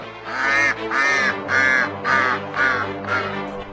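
Six loud, evenly spaced nasal quacks from ducks close by, a regular honking rhythm with short gaps.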